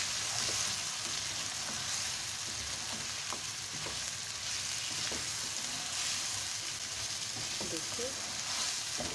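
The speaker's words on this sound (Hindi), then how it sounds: "2 मिनट हम लोगों ने लहसुन अदरक के साथ इसको किया फ्राई" Chicken sizzles steadily in a karahi with garlic and ginger paste, a continuous close frying hiss with occasional stirring scrapes and a brief spoken word.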